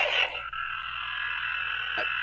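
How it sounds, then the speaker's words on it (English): An electronic weapon sound effect from a Star Wars Enfys Nest swoop bike toy, a steady, buzzing, slightly warbling tone lasting about two seconds, close and moderately loud, with small clicks near the start and end. "I think that's the weapon noise."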